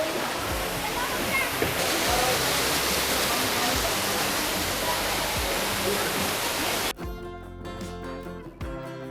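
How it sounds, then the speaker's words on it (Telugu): Loud, steady roar of waterfall water rushing and crashing beneath a bridge at an exhibition in Hyderabad for several seconds, then cutting abruptly to quieter ambience with music-like tones. "వాటర్ ఫాల్స్ నుంచి పడుతున్న వాటర్ అంతా కూడా ఈ బ్రిడ్జ్ నుంచి కింద నుంచి వెళ్తూ"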